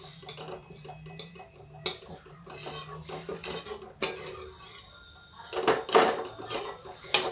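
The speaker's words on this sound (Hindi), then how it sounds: "थोड़ा सा हल्का सा हम और भून लेते हैं, जिससे और टेस्टी हो जाएगा" A laddu mixture being roasted in desi ghee, stirred with a spoon scraping and clinking against a metal pot in close, irregular strokes, with a louder burst of scraping near the end.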